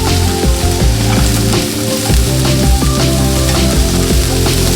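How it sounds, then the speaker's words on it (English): Onions and ground turkey sauté in a hot pan with a loud, continuous sizzle, broken by repeated scraping and stirring knocks as the food is tossed around. "So here I'm just gonna saute until this shrinks"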